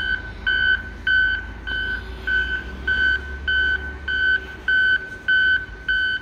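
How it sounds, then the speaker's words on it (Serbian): Street cleaning machines emit a repeating electronic beep, a regular pulse of about two per second, fairly loud and steady over a low background hum, with no talking. "Mislim da su to neke mašine da čiste."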